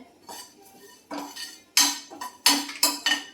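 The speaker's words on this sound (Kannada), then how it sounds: "ಇದ್ರ ಜೊತೆಗೇನೆ ಕರಿಬೇವು ಹಾಕಿ ಡ್ರೈ ರೋಸ್ಟ್ ಮಾಡ್ಕೋಬೇಕು" Curry leaves dry roasting in a pan with no oil for Melkote Iyengar puliyogare, heard as a series of scraping, clinking strokes of a spatula against the metal pan, getting louder toward the end, with no talk.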